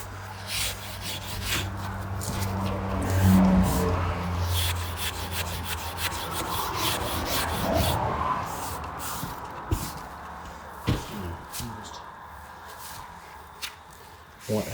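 A rag rubs and wipes finish off a wooden surface in close, uneven scrubbing strokes, with soft shuffling and a few knocks, and a voice speaks briefly.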